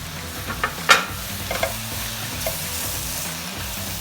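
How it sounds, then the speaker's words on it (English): Chopped vegetables and garlic sizzle steadily in a hot pan for a beef and Guinness pie filling, with a few sharp scrapes and clatters as they are stirred, close and without talk. "We'll just give this a couple of minutes to start cooking the veggies then"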